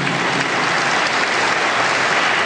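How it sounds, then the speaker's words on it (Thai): Dense, even applause from an audience at a Saturday Bible-course certificate ceremony in Thailand, a continuous roar of many hands clapping close by for the whole stretch. "ขอเสียงปรบมือให้กับคุณหมอครับ"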